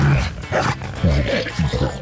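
A tamed Moschops in Ark: Survival Evolved gives a series of low, grunting, barking calls, close and fairly loud, with some voices mixed in.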